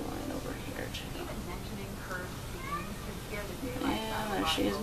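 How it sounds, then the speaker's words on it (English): A cat meows a few times, drawn-out and insistent, over a muffled background with what sounds like low voices. "there she is meowing again"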